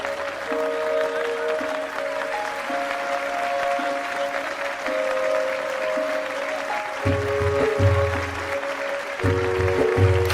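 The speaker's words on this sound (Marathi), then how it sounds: "टाळ्या." An audience claps steadily throughout an award ceremony as a prize is presented, the applause holding an even level while musical tones play over it.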